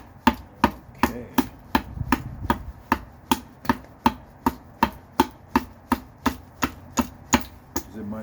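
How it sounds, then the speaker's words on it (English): A gutter adze cuts into wood outdoors in a steady series of about twenty sharp, evenly spaced chopping strikes, each a crisp close impact with a short ring. "It might sound like somebody's outside chopping wood,"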